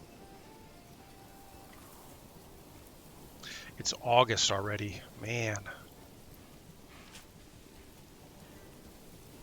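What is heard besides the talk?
rain falling in the video game Manor Lords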